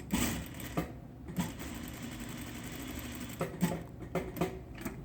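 A home sewing machine stitches the first curved seam of a handmade cloth protection mask, running in a steady mechanical whir with brief louder bursts and pauses as the fabric is guided.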